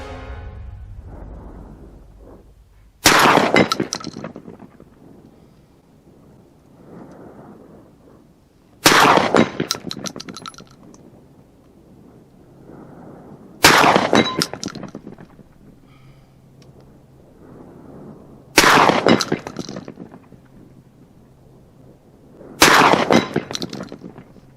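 A close-quarters rifle fires slug rounds at a range, five loud sharp shots spaced about five seconds apart, each followed by a brief echoing decay outdoors.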